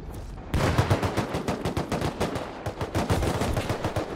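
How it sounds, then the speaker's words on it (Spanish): Rapid automatic gunfire in the online shooter game Bellum, a dense, loud stream of overlapping shots that runs almost without pause after a brief quiet start, with no talking over it. "¿Quién me dispara?"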